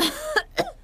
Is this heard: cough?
yes